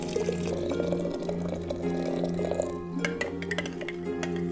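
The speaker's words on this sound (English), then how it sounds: "I'll pour you some water." Water poured into a glass, a continuous close gurgling pour with faint clinks, steady for several seconds with no talking.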